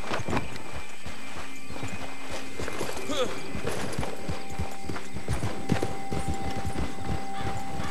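Horse hooves clip-clop in a steady walking rhythm, close and clear for about eight seconds over a busy background, as a rider sets off carrying a corpse on horseback.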